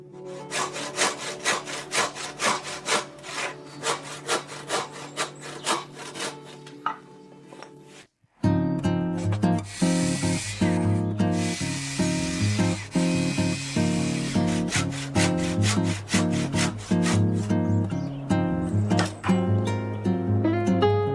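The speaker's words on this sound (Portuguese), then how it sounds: "E depois o serrote para finalizar." Rhythmic back-and-forth strokes of a handsaw cutting wood, a steady rasping pattern that pauses briefly and then resumes with faster, heavier strokes.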